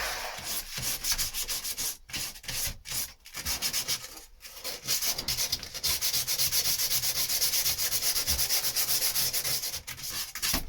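A resin joint is sanded with a steady, loud, close scratching rasp that continues with a few brief pauses and then runs on without break, with no one talking.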